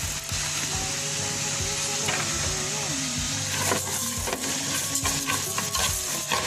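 Rice with turmeric frying in a pan, a steady close sizzle throughout with scraping, stirring knocks and faint clinks layered on top, no talk.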